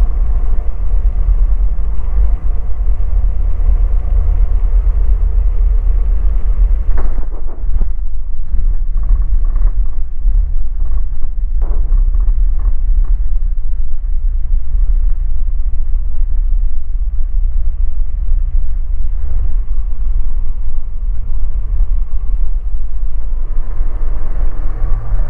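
A light aircraft drones low and steady as it comes in over trees and a campsite to land on a grass farm strip, its constant engine rumble loud and close, with brief rattles and bumps partway through.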